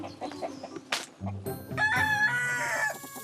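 Pet chickens in a rural Korean backyard coop cluck, then a rooster crows loudly and close, with a short squawk and scattered farmyard noises around it.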